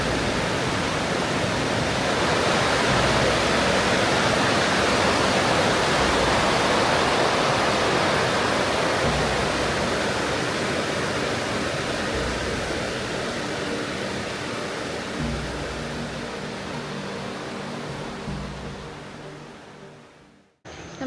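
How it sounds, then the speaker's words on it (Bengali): A strong river current rushes loudly on the route to Kedarnath, a dense, steady roar of fast water heard close and alone, easing slightly before cutting off. "জলের স্রোত খুব বেশি, আর শুধু"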